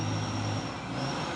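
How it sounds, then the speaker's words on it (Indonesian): A Fuso 6x2 truck arriving, its diesel engine droning low and steady nearby with a constant whine riding above, loud and continuous throughout. "Masuk lagi nih truk Pusoren pemain 6x2"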